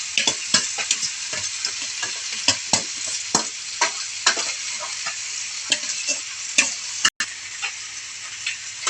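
Jackfruit sizzles steadily in a frying pan while a utensil stirs it, with sharp, irregular scraping clicks recurring over the constant close hiss.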